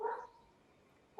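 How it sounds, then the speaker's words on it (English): A dog barks next door, sounding twice in short, fairly faint yaps at the start and end, distant behind a quiet indoor room. "If you can hear the dog barking in the background,"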